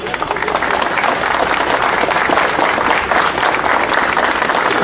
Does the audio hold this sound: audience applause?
yes